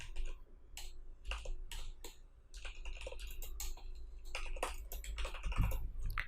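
Someone writes code on a computer keyboard in a quiet room, a close, irregular run of crisp key clicks with brief pauses between bursts.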